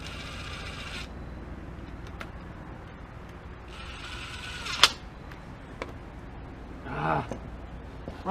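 A ratchet wrench runs a bolt down during an engine swap in a workshop, giving a few short clicking ratchet bursts and metallic taps against a quiet background, with some soft talking.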